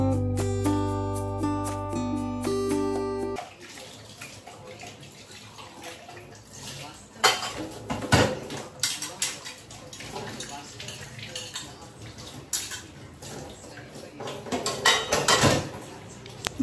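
Running water at a home kitchen sink while dishes and utensils are washed, with a steady tap flow and scattered clinks and knocks of crockery rising and falling over about fifteen seconds, preceded by a brief musical passage.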